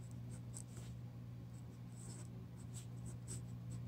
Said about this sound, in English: So I'm just going to write my third first order equation again here.